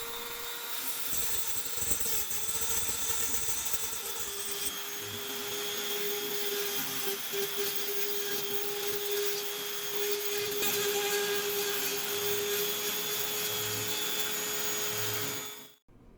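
A rotary tool grinds down the chassis of a Hot Wheels Chevy Tooned 83 toy car, giving a steady high-pitched whine with a sustained tone that runs without a break for about fifteen seconds before it stops abruptly.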